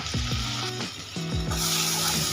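Spices with ginger garlic paste sizzle in hot oil over a low flame while being stirred for dal makhani, a steady crackling fry with repeated scraping strokes of the spoon, close and moderately loud.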